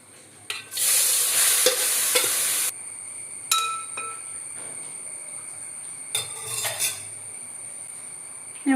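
Shredded cabbage stirred in a hot pan with turmeric for Kerala cabbage thoran, a loud burst of sizzling and scraping followed by quieter spoon-and-pan clinks and intermittent stirring, no talking.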